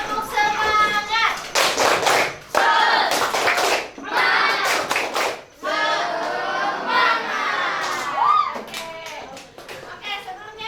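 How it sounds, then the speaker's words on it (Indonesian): A class of schoolchildren performs a rhythmic spirit clap in a classroom, bursts of sharp hand claps alternating with children's chanting voices, loud and close, with pauses between sections. "kita tepuk semangat lagi ya. Tepuk semangat."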